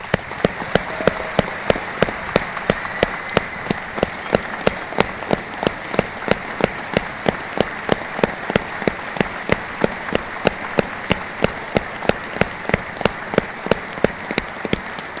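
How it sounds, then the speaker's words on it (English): Audience applause at a Freemasons' Grand Lodge annual meeting, a steady, loud, evenly paced rhythmic clapping in unison that continues for about fifteen seconds without any talk. "I'd like to give Mark a special round of applause"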